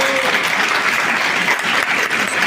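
Audience applause for a female doctor after her presentation, dense and loud clapping that holds steady from start to finish with no voices over it.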